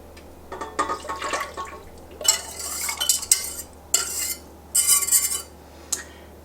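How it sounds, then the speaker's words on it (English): Warm melted butter, milk and sour cream mixture poured from a pan into a mixing bowl, giving soft splashing pours in several short bursts with utensil clinks, close and moderately quiet. "I'm going to pour it into my mixing bowl."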